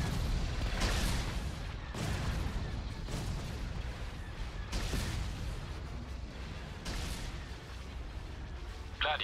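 Repeated booming video game laser cannon blasts every second or two from Star Destroyers over a constant roar of battle, loud and sustained.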